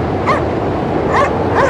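Dog in the video game Cryostasis, set amid ice, giving three short whimpering yelps and yips spaced about a second apart, close and clear over a steady low background rumble.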